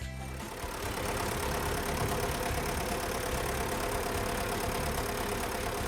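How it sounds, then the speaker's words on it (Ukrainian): A tractor-drawn KPA-4 four-row trailed cultivator with comb harrow and roller works a former cornfield, its engine droning steadily and loudly up close with a dense mechanical rumble and no talk. "Працює культиватор, самі зараз подивитесь, як він буде зараз йти по е, поле було, допустимо, кукурузи"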